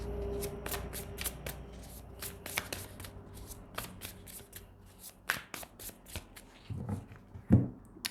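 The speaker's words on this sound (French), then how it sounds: "on va regarder avec le tarot quelles sont les énergies" Tarot cards are shuffled up close in quick, crisp riffling bursts that patter on and off, quiet overall with a few sharper slaps near the end and no talking.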